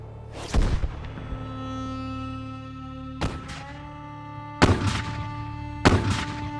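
Artillery fire in a dramatized Battle of Gettysburg scene: four heavy booms at irregular intervals, the last three coming close together, each echoing over a sustained musical drone.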